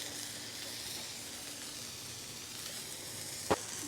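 Smash burger patty sizzling on a hot cooking surface, a faint steady hiss throughout with a single sharp tap near the end.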